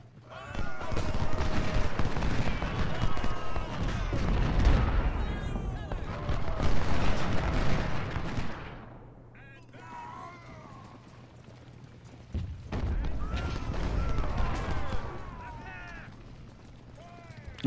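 Dense, rumbling artillery fire and musketry boom through a large Ultimate General: Civil War battle, loud continuous barrages broken by a quieter lull midway, with a voice talking over it.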